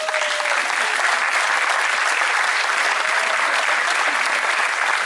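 A school audience claps and cheers loudly and continuously for a contestant announced for a one-on-one basketball game at an end-of-year school show.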